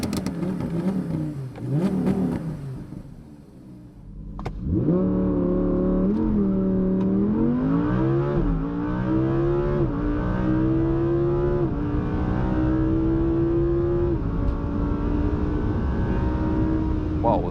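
An Audi R8 V10 Plus with a naturally aspirated 5.2-litre V10 in performance racing mode barks awake after a quieter start, then revs and holds a loud, rising and falling exhaust note close by.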